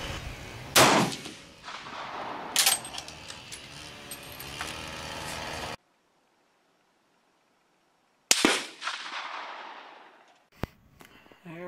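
Rifle fire from a scoped Swiss K31 at an outdoor range: several loud, sharp shots spaced seconds apart, each with a rolling echo tail, broken by a stretch of silence, with no talk.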